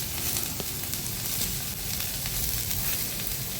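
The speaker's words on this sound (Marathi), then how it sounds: "ते चांगलं फ्राय करून घ्यायचे भाजी" Vegetable masala frying in a pan with red chilli powder, Byadgi chilli and onion-garlic masala, a continuous dense sizzle with faint stirring crackles throughout.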